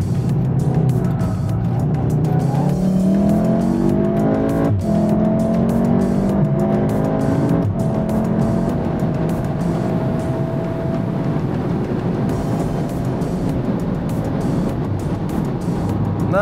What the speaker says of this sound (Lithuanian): nėra pati geriausia garso izoliacija, tikrai ne. Girdisi labai vėjas.